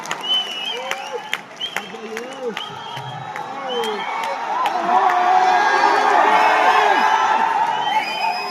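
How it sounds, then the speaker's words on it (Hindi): Applause and cheering from the studio audience after a live session on a Bihar talk show, a loud, sustained wave of clapping with whoops and shouts that swells toward the end, with voices talking over it early on. "जोरदार तालियां इस शानदार सेशन के लिए।"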